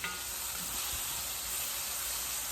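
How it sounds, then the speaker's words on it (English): Onions and bell pepper with garlic and tomato fry in a hot pot for a Jamaican callaloo, giving a steady, even sizzle that is soft and close with no talking. "I'm frying this in the pan before I add my calallo."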